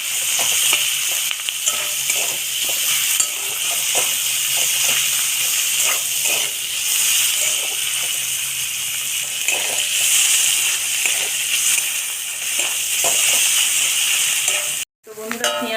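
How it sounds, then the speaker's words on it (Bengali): Onions frying in a pan of oil for a crab curry, a steady bright sizzle with occasional stirring scrapes, continuous and close, ending with a brief knock. "পেঁয়াজ দিয়ে দেবো তো পেঁয়াজটা ভেজে নেবো"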